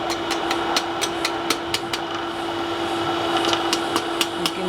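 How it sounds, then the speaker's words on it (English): A hammer strikes a hot iron curlicue at a solid fuel forge, the sharp metallic blows falling in a steady, fairly quick rhythm over a constant background hum. "So I'll have to hammer that way."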